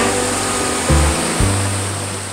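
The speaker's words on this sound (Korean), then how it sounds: "바로 옆으로는 차가운 계곡물이 흐릅니다" A cold mountain stream flows beside a zelkova forest at Hwasin-ri near Yeongdong, a steady loud rush of water filling the air with a low hum beneath it.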